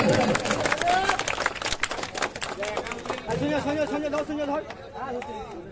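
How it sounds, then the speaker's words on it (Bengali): An audience claps at a football tournament prize ceremony in Jhargram, with sharp bursts of clapping early on that thin out under a loud announcer's voice. "টুর্নামেন্টের সেরা খেলোয়াড়, জোরে হাততালি।"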